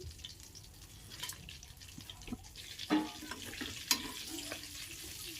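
Whole spices crackle and sizzle in hot oil over a medium flame for chicken masala, a soft hiss broken by a few scattered pops and utensil clinks, with no one speaking.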